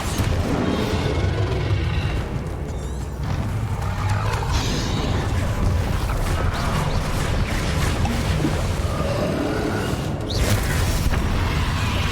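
A Bombarda blast spell detonates in Hogwarts Legacy, a loud, continuous rumbling explosion with layered booms and debris crackle running for several seconds amid dense combat noise.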